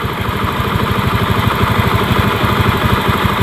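Steady idle of a Honda Beat ESP scooter engine held at low RPM, a close, even rapid putter with regular pulses and no talk over it.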